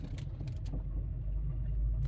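Idling engine of a 2011 Mazda 3 with 180,000 kilometres, a steady low hum heard from nearby with faint clicks over it.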